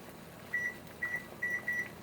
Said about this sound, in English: So let me set the timer here.